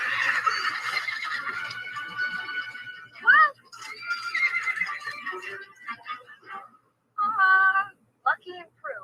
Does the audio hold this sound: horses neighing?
yes